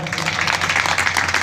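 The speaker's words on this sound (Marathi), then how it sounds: "टाळ्या वाजवा." An audience at a village gathering claps together, dense rapid applause held at an even loud level for a moment, with a voice faintly under it.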